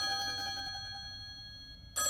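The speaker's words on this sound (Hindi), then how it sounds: "नैना, जाके फोन उठाना" A telephone rings with steady electronic tones, fairly quiet, then a louder burst of ringing at the very end.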